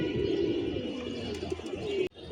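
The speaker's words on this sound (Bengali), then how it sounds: "এই যে কবুতরটি নেমে আসছে" Racing pigeon with a leg tag coming down at a 41 km five-direction pigeon club tournament in Dhaka, with steady cooing and bird calls on a rooftop and a short drop-off near the end.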